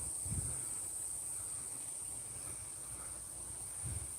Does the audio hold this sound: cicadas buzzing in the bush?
yes